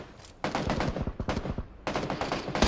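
Rapid bursts of automatic gunfire from the battle-royale game PUBG, two dense volleys of closely spaced shots with a brief pause between, loud and near, no talk.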